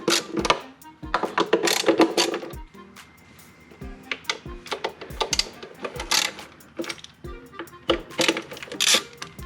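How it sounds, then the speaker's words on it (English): Timing belt cover Allen bolts on a Lexus IS300 are loosened with a 5mm Allen key, with repeated metallic clicks, ratcheting scrapes and clanks of tool and bolts close by. "So just 4 bolts, one here, or 4 Allen bolts, one here, one here, one here, one here, and this is a 5mm Allen key."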